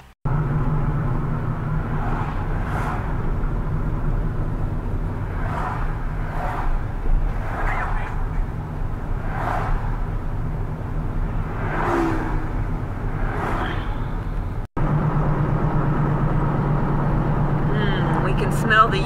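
A car drives down a street in Palos Verdes, its engine and road noise forming a steady low rumble heard from inside, while people talk over it throughout.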